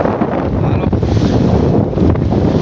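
Strong sea wind buffets the microphone aboard a fishing boat, a loud continuous roaring rumble with waves and surf beneath, steady and close throughout.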